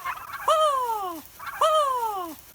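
Two loud, close turkey gobbles at a ranch, each a rapid descending warble lasting under a second, separated by a short pause with no talking.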